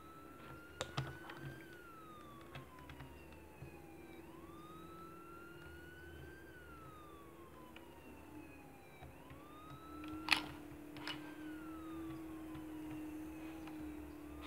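A police car siren wails faintly in the distance, its rising and falling tone repeating steadily for the whole stretch, with a few sharp clicks and knocks nearby.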